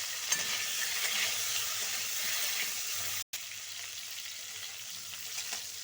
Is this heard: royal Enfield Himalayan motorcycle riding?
no